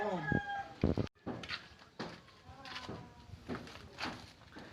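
Chickens cluck and squawk nearby in short bursts, with a few louder calls among the flock and quieter murmuring clucks in between.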